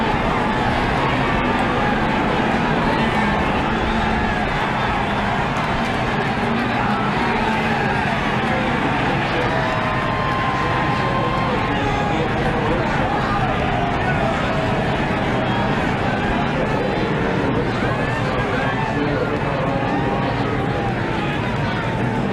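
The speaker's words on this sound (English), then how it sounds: "You can hear the crowd" NASCAR race crowd roaring steadily at the track during a caution and lead change, a dense continuous hubbub with engine noise mixed in and a commentator talking over it.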